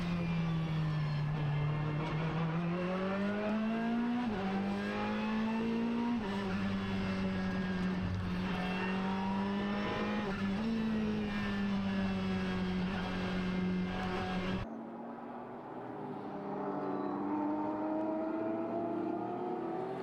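A race car engine roars steadily from onboard during a Japan Cup race at Okayama, loud and continuous with pitch rising and falling through gear changes, then a sharp drop as the sound cuts to a lower, different engine note.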